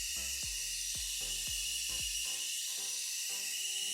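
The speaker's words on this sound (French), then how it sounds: "Donc on a bien vu donc la vapeur s'échapper." Steam hisses loudly and steadily from a vessel during a demonstration of a change of state, while a series of low thuds and pops fades out after about two seconds, with no talking.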